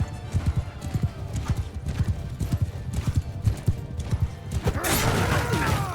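Many horses galloping in a Mount & Blade II Bannerlord battle, a dense rumbling clatter of hooves with a whinny, then a swelling crash and clash of combat near the end.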